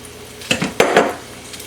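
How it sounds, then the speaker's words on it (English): Sliced onions tumbling into a pot for French onion soup, a few quick clattering thumps and a brief scraping rustle with a faint sizzle, close and short. "I'm going to add half of my onions"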